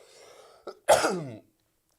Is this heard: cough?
yes